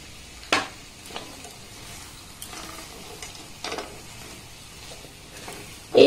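Fried almonds, cashews and raisins tipped into semolina halwa cooking in ghee, a soft steady sizzle with a few stirring clinks and scrapes, one sharper clatter near the start and another at the end.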